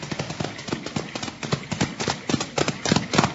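Several horses clip-clop toward the listener on an old Western radio show, hooves striking in a brisk, overlapping rhythm that grows fuller and louder, close and clear with no talking.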